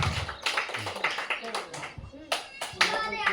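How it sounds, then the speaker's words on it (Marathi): Children at a school running game clap their hands in quick, uneven bursts of sharp slaps, close by and lively, amid shouting and talking from the group. "टाळ्या वाजवा रे"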